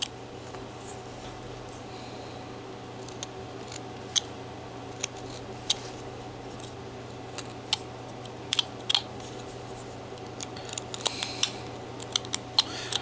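A carving knife slices into a wooden carving, leaving sparse sharp clicks and short scraping snicks at irregular intervals over a quiet room background, close and moderately loud, with no speech.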